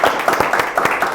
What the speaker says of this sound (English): I would like to ask applause for Ernesto.